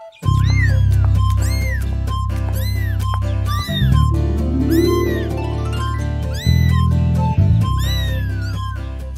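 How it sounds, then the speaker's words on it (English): A kitten meowing repeatedly in an animated children's Bible story, a run of clear, rising-and-falling cries close up over a loud, steady musical background. "It's a kitten."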